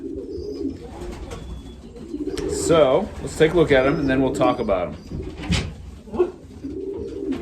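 An imported racing pigeon from the Netherlands coos in soft, repeated low throaty phrases, close by, while someone talks over and between the calls.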